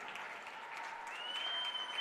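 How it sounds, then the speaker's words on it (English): Women's hockey crowd applauding and cheering a Maryville Saints win over Grand Valley Lakers, steady dense clapping from a large arena audience with a faint whistle-like tone sustained over the noise. "The fans are on their feet and they cheer the Saints on as they pick up victory number 4"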